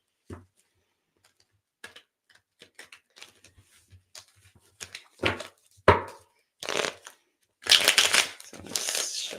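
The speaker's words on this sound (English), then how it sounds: "let's shuffle these" Tarot cards being shuffled by hand, a run of soft, irregular riffles and taps that grows denser and louder toward the end, close by with no talk.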